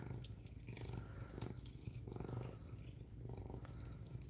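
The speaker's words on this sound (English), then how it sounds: "She's got a loud purr." A cat purring loudly and close up, a steady rumbling drone that pulses gently with each breath, no other sounds.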